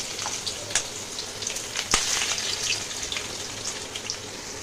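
Chopped onion hits hot mustard oil in a kadai and fries with a steady, close crackling sizzle, with a few sharper pops and spits breaking through the continuous hiss.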